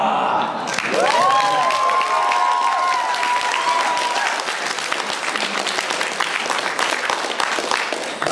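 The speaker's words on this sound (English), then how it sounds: "Clap for your guests and feel the power!" A Detroit crowd claps and cheers for guests at a wrestling-themed show, sustained applause building into a bright, even roar, with a whoop or two rising briefly at the start.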